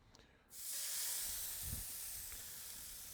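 A pork chop sears in a hot pan, a loud steady hiss that starts abruptly and then holds evenly, close up with no talking.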